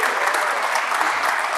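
A legislative chamber audience on the opening day of a session claps warmly for family members being introduced, a dense, steady burst of applause at close range.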